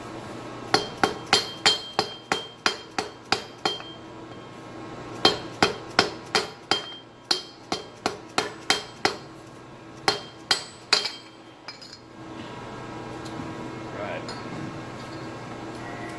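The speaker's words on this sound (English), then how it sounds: "take a piece of aluminum pipe or something and hammer on top of that" A hammer strikes an aluminum pipe set on top of a part being assembled, giving a series of sharp metallic clinks in quick runs of evenly spaced blows with short pauses between them, close and fairly loud.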